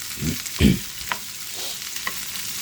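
Onions fry in a pan for chicken jalfrezi, cooking until lightly browned: a steady, close sizzle with a few louder scrapes and clatters as they are stirred, and no talking.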